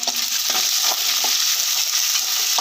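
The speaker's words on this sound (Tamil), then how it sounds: "இப்போ கருவேப்பிலை சேர்த்துக்கலாம் கொஞ்சம் நல்லா வதக்கி விட்டுறலாம்" Onions, green chillies and curry leaves frying in oil in a pan for a Tamil meal of thick dal, tomato rasam and potato fry, giving a steady, close sizzle with a few soft stirring scrapes and no talk.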